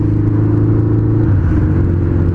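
Motorcycle engine with a stock airbox and new intake boots on rejetted carburetors, accelerating to overtake, a loud close continuous rumbling drone whose pitch climbs steadily, with no voices.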